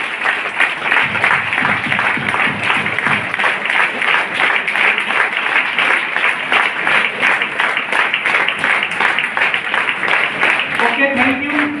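An audience applauds steadily as technical achievers are invited onto the stage at an event, with dense, even clapping filling the whole stretch and a voice faintly cutting in near the end.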